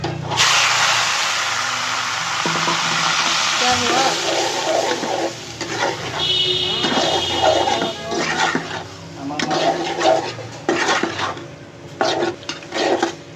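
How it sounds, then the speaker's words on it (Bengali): Leafy greens are stir-fried in a pan with a continuous frying sizzle, while a utensil scrapes and clinks against the pan in irregular strokes, close by. "শাকটা ভাজা হয়ে গেছে এখন শাকগুলো ঢেলে দিব"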